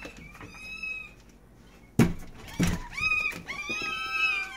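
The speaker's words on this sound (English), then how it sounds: "I'm going in to feed the kittens." Several kittens meowing at feeding time, high, wavering cries close by, interrupted by a couple of sharp knocks like a cupboard or door, then more overlapping meows.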